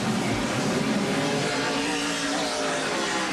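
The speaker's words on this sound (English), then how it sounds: "Rusty revving the engine" A NASCAR stock car engine revs on pit road during the 1989 Miller High Life 400, a loud, continuous, rumbling roar that holds steady throughout, with no talk over it.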